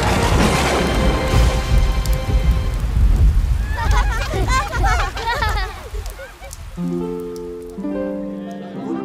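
Heavy rain pours in a dense, loud wash in an animated cartoon scene, with a rumble of thunder, then fades as brief musical tones come in.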